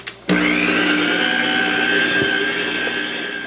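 An electric mixer with a paddle churns rum bundt cake batter containing evaporated milk, starting with a click and then whirring loudly and steadily with a droning hum.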